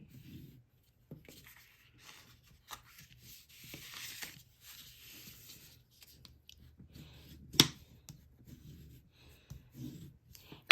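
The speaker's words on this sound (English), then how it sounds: "Just going to burnish those with my bone folder." A bone folder is rubbed along scored paper fold lines, making soft, intermittent scraping strokes close to the listener, with a single sharper tap partway through and quiet pauses between passes.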